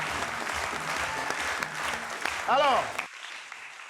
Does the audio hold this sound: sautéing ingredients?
no